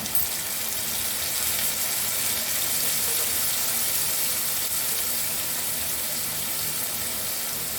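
Water poured into a pan of Bengali cauliflower curry (phulkopi badshabhog) sets off a loud, steady hiss and sizzle of steam that holds constant and close throughout, with no talk.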